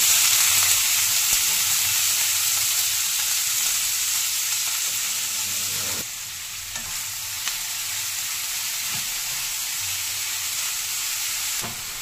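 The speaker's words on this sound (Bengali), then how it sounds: "এবার এর মধ্যে দিয়ে দেবো লাউয়ের খোসা আর পেঁয়াজ একসাথে।" Bottle gourd peel and onion dropped into hot oil with black cumin, frying with a loud, continuous close sizzle that eases slightly midway and carries on steadily without any voices.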